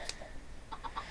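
Chickens in the video game Minecraft, short faint clucks in a quick burst of three near the end, with an earlier lone cluck over low background noise.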